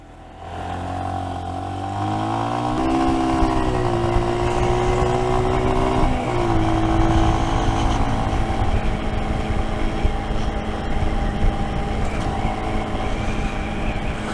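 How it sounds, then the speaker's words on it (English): Motorcycle engine revving upward as the clutch is pulled in, a loud continuous rising drone that holds steady and then settles into a rough, sustained engine note. "If you heard the revs go up there, it's because my clutch got pulled in."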